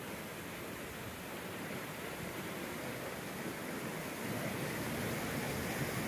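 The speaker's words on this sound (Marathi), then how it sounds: "हा, तो बघा, हा झरा अक्षरशः खळखळ वाहतोय." A gushing mountain stream in Switzerland rushes in a continuous broadband roar of churning water, fairly soft and distant-sounding, swelling slightly toward the end.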